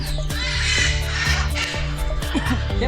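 Crows caw repeatedly amid a busy chorus of other birds in Cartagena, Colombia, loud and close, with some low background rumble and faint voices.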